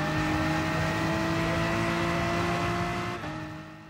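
A GR4 race car engine in Gran Turismo Sport pulls hard down a long straight at Autodrome Lago Maggiore, loud and steady as it accelerates, then shifts gear and fades toward the end.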